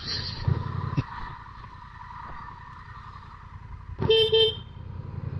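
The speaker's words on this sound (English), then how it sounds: "I honked at him" A car horn gives a short double honk near the end, preceded by a steady engine hum and a brief horn-like blip early on, with no talking.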